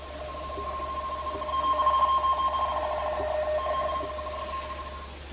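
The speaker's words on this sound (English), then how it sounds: "What you're listening to there is not Morse code, it's Baudot code." A German teleprinter radio signal in Baudot code, a steady warbling pair of high electronic tones keyed continuously over faint static, with a soft low hum underneath and no voices.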